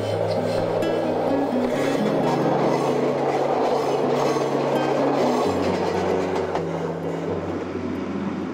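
A Nagano Electric Railway limited express train rumbles steadily across the Yomase River railway bridge with a low droning motor hum and rhythmic metallic rattling of wheels on track, close and continuous.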